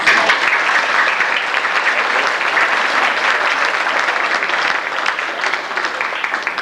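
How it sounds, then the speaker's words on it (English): A reunion luncheon audience applauds steadily for the woman who did the floral arrangements, a dense, loud, sustained wash of clapping from a roomful of people that holds evenly for the whole stretch. "she deserves a big round of applause"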